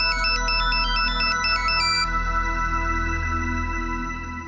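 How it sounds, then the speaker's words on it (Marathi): A telephone rings with an electronic ringtone: a quick repeating melodic chirp pattern, then sustained tones that fade slightly, loud and close with no talking. "शुभ्रा, किती वाजतोय हा फोन?"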